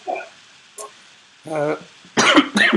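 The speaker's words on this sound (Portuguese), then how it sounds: "no meio da palestra eu vou ter que tossir de vez em quando, como agora" A soft throat noise and a brief voiced sound, then two rough, loud coughs close by.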